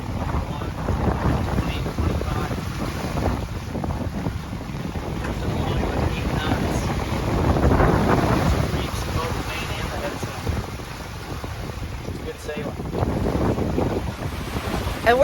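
Strong wind rushing past a sailboat on open water near a closed port, with sea wash and microphone buffeting continuing steadily under brief, faint talk.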